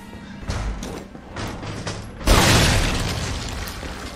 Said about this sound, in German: Ich geh jetzt da hin und werf da eine Granate.